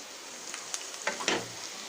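Cabbage, capsicum and long beans fry in a hot pan with a steady close sizzle, broken by a few stirring scrapes and soft clatters.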